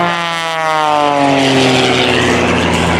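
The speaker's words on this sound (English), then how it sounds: "The yellow airplane trying to land here" A yellow propeller airplane flies past at an air show in New York, its engine a loud, steady drone whose pitch slides downward as it passes close by.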